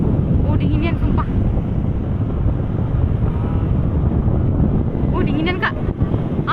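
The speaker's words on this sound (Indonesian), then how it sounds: "Dinginan kak, anginnya kuat nih ya." Strong wind buffets the microphone at night on a bridge in Palembang, a loud continuous rumbling roar with occasional traffic-like swells and faint voices underneath.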